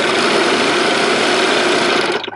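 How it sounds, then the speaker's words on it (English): A serger sewing machine runs continuously while stitching a seam, giving a steady fast mechanical whir and rattle that holds level, then winds down and stops at the end. "you want to leave your thread tail long at the start and then just stitch straight down your project"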